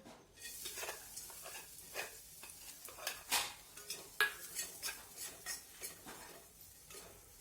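A ground spice paste sizzles steadily in hot sunflower oil while a utensil stirs and scrapes against a pan in a quick series of close, bright clinks.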